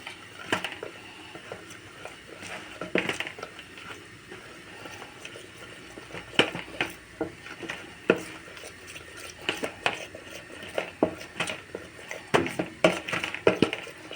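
Flour and water whisked with a spoon in a pot of yogurt-based spinach-root soup, giving repeated close metallic scraping and clinking against the pot at an irregular, brisk pace, getting busier toward the end, with no talking.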